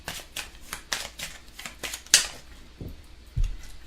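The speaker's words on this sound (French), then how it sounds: "Donc, on va tirer 3 petites cartes." Tarot cards riffle and slap in a quick series of crisp shuffling bursts close by, followed by a sharp snap and a couple of soft thuds as cards are drawn and laid down.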